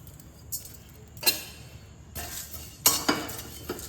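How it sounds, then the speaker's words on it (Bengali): Whole spices frying in a hot kadai for a Bengali pumpkin chutney, with a few sharp metallic scrapes and clinks of a spoon against the pan over a light sizzle, close and intermittent. "কড়া গরম হয়ে গেছে, আমি মশলাগুলোকে সব ভেজে নিচ্ছি"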